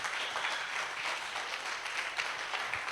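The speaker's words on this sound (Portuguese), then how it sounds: "Vamos aplaudir o Senhor." A church congregation applauds during an evening Sunday worship service, a steady wash of clapping from many hands that holds at an even level throughout without pauses.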